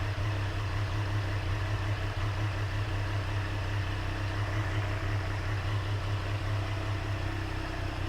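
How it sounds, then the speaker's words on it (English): A warm 2022 Triumph Street Triple RS motorcycle engine idles steadily, a continuous low, even rumble held at constant level for about eight seconds with no talking. "The engine's already warm. I'm gonna let it circulate for 30 seconds."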